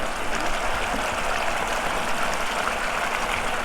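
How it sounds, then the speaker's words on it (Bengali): Hot water comes to a boil in a pot while katla fish kalia curry is being cooked, giving a steady, close, continuous bubbling hiss with no talking. "গরম পানি দিলাম, গরম পানিটা ফুটুক, খুব ভালো করে ফুটে উঠবে যখন।"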